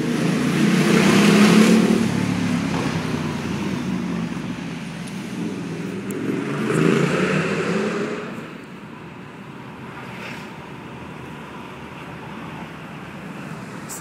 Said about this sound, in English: This is what it's like in the morning, the rush hour in the morning.